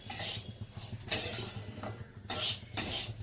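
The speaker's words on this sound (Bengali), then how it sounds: "আমি বাদামটা দিয়ে দিচ্ছি" Nuts go into a pan of semolina halwa being fried until reddish and grainy, making short bursts of crisp sizzling and rattling with metallic scraping between them, close and fairly quiet.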